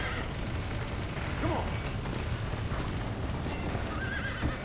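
A horse in the video game Red Dead Redemption gallops with steady clip-clop hoofbeats under continuous busy game noise, with whinnying neighs breaking through, loud and close.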